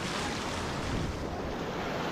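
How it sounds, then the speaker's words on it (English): Ocean waves wash onto a California beach with a steady, dense roar of surf, close and continuous, mixed with some wind noise and no voices. "You can see the waves on your left here with a big nice rock."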